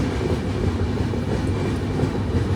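The Visakha Express rumbles steadily into Berhampur station, a loud close roar of rolling wheels with a faint clickety-clack and no voices.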